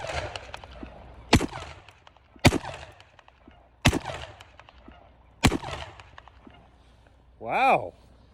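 Four sharp, loud .50 cal Desert Eagle pistol shots ring out outdoors, spaced about one to one and a half seconds apart, each followed by a short echo. A brief vocal exclamation comes at the very end.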